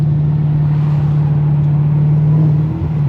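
A supercharged Holden VF Commodore on the road, its steady engine drone carrying a constant, prominent supercharger whine heard from inside the car, with no talk.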